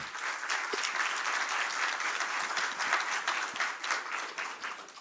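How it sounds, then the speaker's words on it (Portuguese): A crowd applauds a professor at a Brazilian government human rights event, steady dense clapping filling the room for about five seconds without pause, fairly loud and even throughout. "Uma salva de palmas também para o professor Natan"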